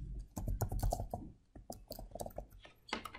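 Keys clatter on a computer keyboard in short irregular bursts, close and fairly quiet, with brief pauses between words typed.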